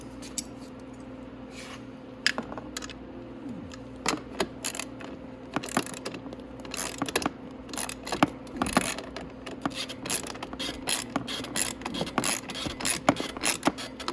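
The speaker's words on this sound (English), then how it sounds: "I just need to tighten the nut on." A nut on a Venom 125cc dirt bike muffler is tightened by hand, producing faint clicking, ratchet-like metallic ticks and light clinks spread irregularly, close and quiet, with no voices.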